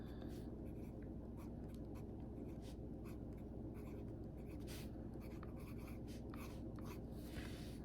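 A Benu Talisman fountain pen with a broad nib scratches across paper as it writes ink swatches. The faint, continuous scribbling and tapping sounds close, with no talking.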